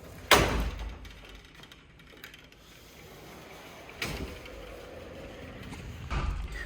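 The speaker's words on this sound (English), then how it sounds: "I'm going to close this door" A house door is pushed shut, landing as a sharp knock near the start, followed by a quieter clunk of the latch and another soft thump later, against a low room hum with no talking.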